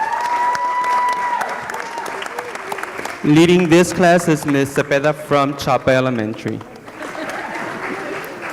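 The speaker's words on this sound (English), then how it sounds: "These kids really deserve a round of applause because they're beginning a love affair with science." Clapping from the audience at a board meeting honoring students, a steady crowd patter running underneath while someone speaks clearly into a microphone.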